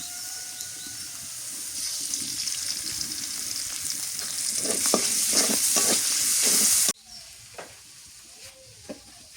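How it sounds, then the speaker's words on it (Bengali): Chopped onion and green chilies sizzle steadily in hot oil with a loud, bright hiss and occasional stirring clicks, then the frying abruptly drops to a quieter background with a few faint taps. "পেঁয়াজ কুচি দিয়ে দিই, আর দিয়ে দিই কাঁচামরিচ, তেল দিয়ে দিই।"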